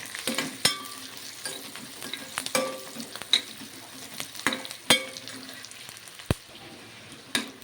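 Curry leaves frying in hot oil alongside onions for an eggplant curry, a close, steady crackling sizzle broken by sharp pops and spatula clicks against the pan.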